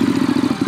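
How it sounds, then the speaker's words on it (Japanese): A Ducati motorcycle engine in Sapporo pulses with a rapid, loud, rhythmic chugging, close by, as it catches and idles. "エンジンスタート"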